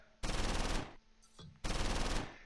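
Machine gun fire in the World War II strategy game Close Combat IV, set at Losheim: two loud, sustained bursts of rapid automatic fire separated by a short pause, heard alone.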